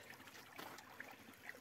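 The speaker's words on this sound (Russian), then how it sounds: "Ручей журчит." Water from a spring in a snowy fir forest trickles along a trough, a faint, steady babble with no pauses and light splashy flecks throughout.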